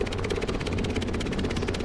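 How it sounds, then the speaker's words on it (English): Helicopters fly in Stormworks, a steady loud rotor throb with fast regular chopping pulses over a low engine drone, continuous and close. "3 helicopters? What are they doing?"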